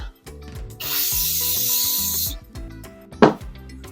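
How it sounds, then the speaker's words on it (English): A spray bottle of Odin spray gives a couple of seconds of hissing spritz onto a straight-hair wig, set against soft handling noises and a short sharp rustle near the end. "spray some of the Odin spray on it"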